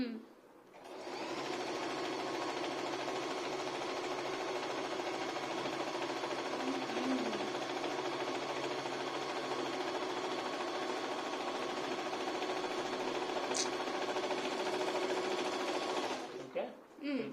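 A Singer 8280 sewing machine stitches an overlock seam along a fabric edge, giving a loud, steady, continuous motor whir that runs without a break for about fifteen seconds before stopping.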